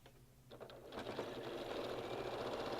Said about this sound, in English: Sometimes too much bulk at the beginning of a seam can be like irritating for your sewing machine